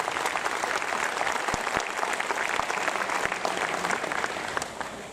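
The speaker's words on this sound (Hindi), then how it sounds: "इनका जोरदार तालियों से धन्यवाद दें।" Audience at a Dreams Meet Delivery seminar in Raigarh claps loudly and continuously, a thick wash of many hands with a few sharper individual claps, tapering slightly at the end.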